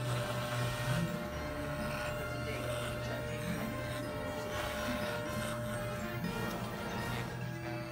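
Oster MxPro electric clippers cutting a beard on the closest setting, a steady close buzzing motor hum with rasping bursts as hair is cut, continuous throughout.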